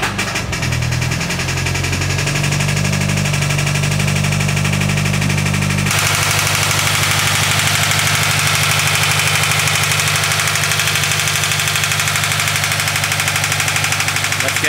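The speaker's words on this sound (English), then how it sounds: "As you can tell, the knocking sound is really, really bad." Toyota GT86 engine with a severe knock running close up, a harsh rapid metallic clatter over the engine's drone, loud and continuous throughout with a shift in tone partway through.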